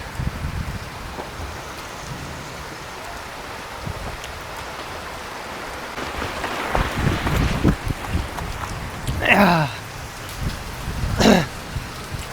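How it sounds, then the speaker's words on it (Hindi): Heavy rain in the mountains hisses steadily and densely, with a couple of brief vocal sounds rising out of the downpour near the end. "खतरनाक बारिश स्टार्ट हो चुकी है,"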